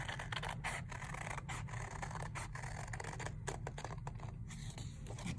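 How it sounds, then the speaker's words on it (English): Scissors cut through folded paper along a drawn pencil line for a hot air balloon craft, a steady close run of crisp snipping and rustling with no talk. "Now you're gonna take your scissors and you're gonna come over, I'm gonna pick it up, and I'm just going to cut on that line that I just drew."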